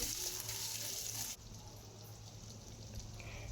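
Ginger-garlic paste and spices sizzle in a hot pan, a dense hissing fry that suddenly drops in intensity partway through, then continues as a steady quieter sizzle with occasional faint clinks.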